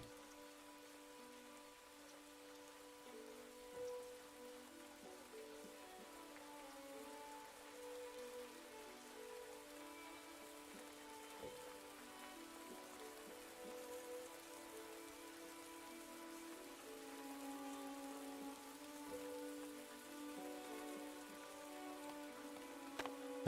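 Soft, steady rainfall in a survival city-builder video game patters quietly over a sustained ambient music bed, continuous and faint throughout with no voices.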